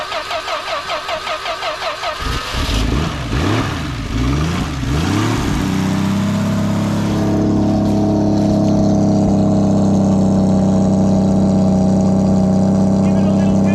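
A 1972 Plymouth Val-Ute engine cranks in a rapid rhythmic whirr for about two seconds, catches with a rough sputtering surge, then settles into a loud, steady, close idle.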